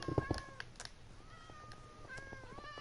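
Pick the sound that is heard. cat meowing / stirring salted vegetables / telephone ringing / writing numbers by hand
cat meowing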